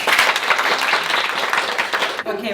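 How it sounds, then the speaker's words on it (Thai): Audience applause for a player in a Thai Isan-singing show's matching game, dense steady clapping throughout, ending abruptly near the close. "ปรบมือให้ช็อปเปอร์หน่อย"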